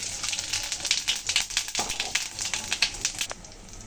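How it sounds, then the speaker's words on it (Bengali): Dried red chillies and cumin seeds hit hot oil for tempering, giving a close crackling sizzle with busy irregular pops and spits over about four seconds, and no voices. "তেল সুন্দর গরম হয়ে গেছে। এখন ফোড়নে দিয়ে দিচ্ছি শুকনো লঙ্কা, জিরা।"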